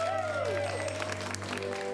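An audience at an improv comedy show claps in a dense, steady patter, partly mixed with tonal background sound. The clapping fills the short moment at moderate loudness, with no clear speech.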